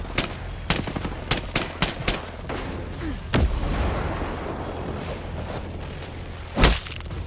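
Sniper and automatic gunfire in the tactical shooter Ghost Recon Breakpoint: a rapid run of sharp, loud shots early on, then a heavy boom, a stretch of rumbling noise and one final near, loud blast.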